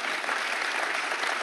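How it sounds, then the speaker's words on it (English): Steady applause from a QuakeCon 2012 panel audience, dense clapping throughout at an even level with no voices standing out. "give a round of applause to our panelists here"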